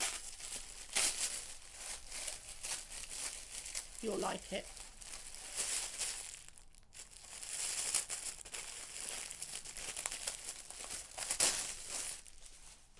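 Crinkly plastic wrapping rustles and crackles in bursts as a package is opened nearby, with a brief spoken remark partway through.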